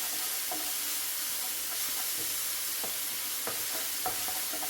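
Quail eggs frying in a pan, a dense steady sizzle and hiss throughout with faint scattered clinks and stirring taps, close and without any voices.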